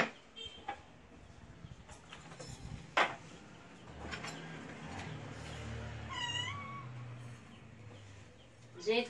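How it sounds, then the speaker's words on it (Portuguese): A cat meows a few times in the background, faint against kitchen clatter and room noise while corn cake batter is made in a blender, with brief clunks and knocks scattered throughout. "vocês estão escutando meu gato miando aí"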